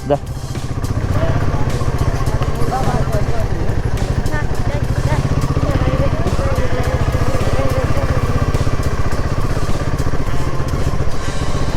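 A motorcycle engine runs steadily throughout on the way to Kulimagod Waterfalls, a loud, close, rumbling drone with a rapid pulsing beat, while people talk over it.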